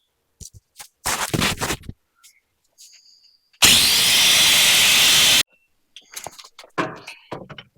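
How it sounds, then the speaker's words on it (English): An angle grinder cuts a starting line into a bump stop with a steady, loud, hissing whir lasting about two seconds, set among scattered clanks and brief tool noises nearby. "I'm gonna use a grinder to get my starting line"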